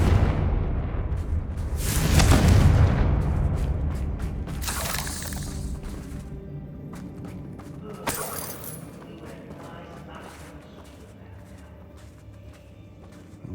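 Bursts of a Confringo blasting spell exploding in Hogwarts Legacy, a big blast early on, then further crackling impacts and a sharp hit around the middle, fading into quieter game ambience.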